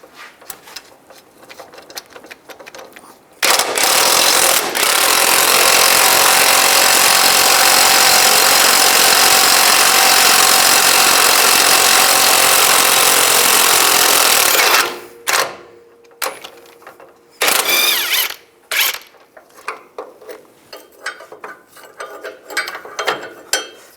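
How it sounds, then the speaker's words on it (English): A rapid, loud mechanical whir of a powered tool spins a 19mm socket off a control arm bolt nut on a 2005-15 Nissan Xterra, lasting about eleven seconds, followed by short bursts and clanks of tool handling. "We want to use a 19mm wrench on this side and a 19mm socket from the other side."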